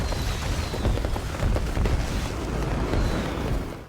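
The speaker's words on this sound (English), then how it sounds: "One gorgeous explosion later" A building packed with fireworks explodes in a movie scene, a loud, dense roar of crackling and rumbling that stays steady for several seconds and fades at the very end, with no voices.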